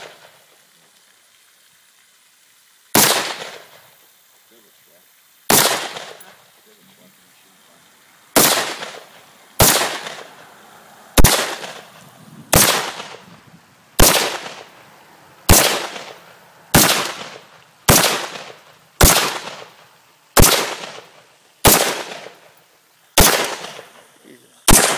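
Sharp reports from a POF-USA MMR12 rifle (P415 modified) fired outdoors: about fifteen loud, separate shots, spaced slowly at first and then at a steady rhythm of roughly one per second, each with a short echoing tail.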